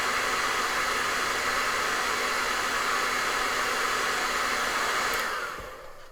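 A hair dryer blows steadily on a glazed eagle painting, a close, loud, even whoosh that holds for about five seconds before switching off and winding down.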